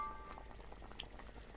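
A pot of vegetable stew with a large bone-in joint of meat bubbles over a fire in a video game, a faint steady simmer of soft pops and patter with no voices.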